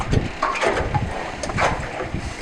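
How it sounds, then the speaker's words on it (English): A small fishing boat's outboard or inboard engine at a quayside in northern Norway starts and runs, a rough low rumble mixed with wind buffeting the microphone and splashy water noise, continuous and close. "and then you can start the engine"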